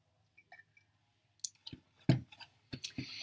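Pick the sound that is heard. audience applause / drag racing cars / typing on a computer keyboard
typing on a computer keyboard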